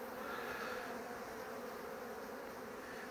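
Honeybees hum around an open hive whose colony is settling back in, making a dense, even drone that runs steadily throughout, soft and slightly distant, with no voices.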